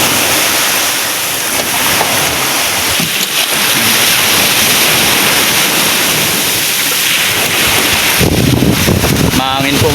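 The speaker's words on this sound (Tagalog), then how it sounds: "Mahangin po ngayon." Strong wind roaring across a microphone at a beach where a fishing boat is being hauled ashore, mixed with crashing surf, loud and continuous throughout.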